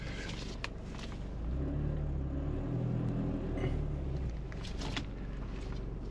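A Mercedes C230 with an exhaust leak and a transmission stuck in limp mode idles nearby with a low, rough rumble. The engine swells a little louder in the middle and gives a few sharp clicks and knocks, with no talking.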